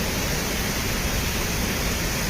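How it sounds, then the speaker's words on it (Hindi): Roaring mountain waterfall of the Ashtavasu stream on the Swargarohini route in Uttarakhand, a loud, steady, unbroken rush of falling water filling the whole clip. "हवा की झोंकों के साथ साथ हर हर का शब्द करते हुए अष्टवसु की यह पावन धारा है"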